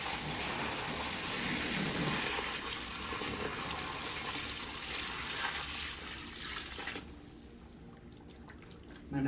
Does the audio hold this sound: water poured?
yes